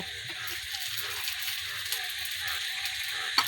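Rice-flour pitha frying in ghee, a steady broad sizzle with a soft hiss running evenly throughout, near and continuous, with faint low background noise beneath.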